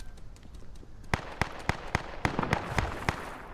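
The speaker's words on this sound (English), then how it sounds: "You hear those bullets?" Sharp video game gunshots crack out in a steady series of about a dozen evenly spaced reports, starting after a quiet moment and continuing to the end, loud and close with no talking.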